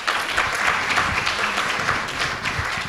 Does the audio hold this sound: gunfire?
no